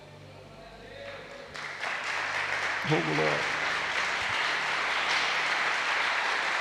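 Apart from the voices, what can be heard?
church congregation clapping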